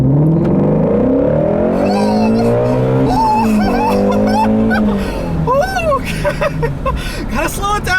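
A 2016 Shelby GT350 Mustang with an 8,250 rpm redline accelerates hard on a straight road, its engine revving up through repeated rising sweeps, loud and close.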